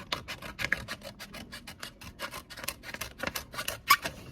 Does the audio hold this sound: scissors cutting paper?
yes